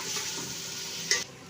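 Onions frying in oil, a soft steady sizzle close by with a quiet rattle, then a brief bright metallic clink just before it cuts off.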